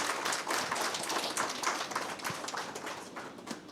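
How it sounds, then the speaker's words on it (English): An audience at an entrepreneurship week event applauds after a presentation on technology and logistics, producing steady, moderately distant clapping that gradually softens. "Let's give him a round of applause."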